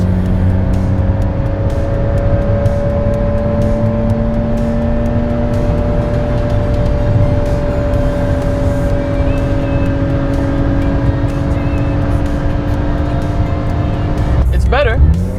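A Mercedes W124 engine hums steadily during a test drive at operating temperature, its drone rising slowly in pitch as the car accelerates, with a brief sharp sound near the end.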